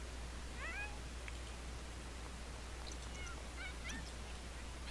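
A cat in the video game The Sims 4, several short meows and chirpy cries in scattered bursts, moderately close over a steady low hum and background noise.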